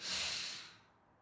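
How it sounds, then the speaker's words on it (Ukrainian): A single close exhalation during a back-strengthening exercise routine for scoliosis, a soft breathy rush of air that fades over about a second, heard alone. "І видих."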